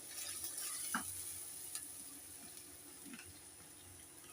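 Katla fish sizzles faintly in a pan with dried chili paste and garlic paste while a utensil stirs it, giving a soft, steady fry broken by a few light scraping clinks.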